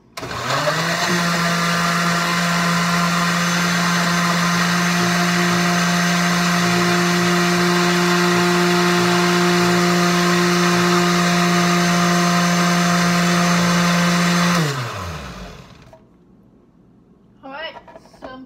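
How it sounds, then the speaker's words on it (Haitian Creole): A blender whirs steadily through baby food, a loud continuous motor drone with a strong hum, running about fifteen seconds before winding down and stopping; a voice speaks over it. "On va blender, couvrir. Puis on va blender."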